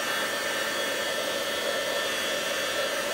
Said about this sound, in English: here you see me using the heat gun